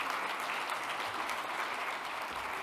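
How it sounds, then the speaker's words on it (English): A conference audience at an Indigenous-led clean energy gathering applauds to welcome a reporter to the stage, a full, even roar of clapping sustained from start to finish. "ladies and gentlemen, give him a round of applause"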